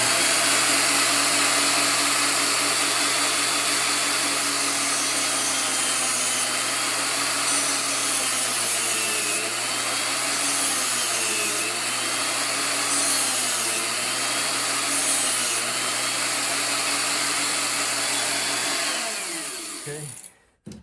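A power tool cutting off part of a Daisy Red Ryder air rifle being built into a mare's leg, a loud, continuous whining drone up close with slight shifts in pitch as it bites, stopping abruptly near the end.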